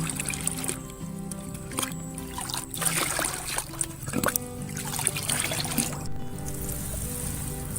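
Rice-washing water is poured onto garden plants, a continuous splashing trickle with gurgling surges and pauses, close and moderately loud, alone without voices.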